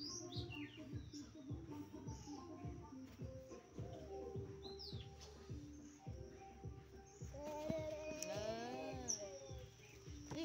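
Small birds chirp and tweet in quick bursts close by, with rising whistled calls late on, over a steady low hum and occasional soft thumps.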